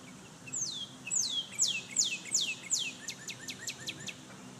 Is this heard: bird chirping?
yes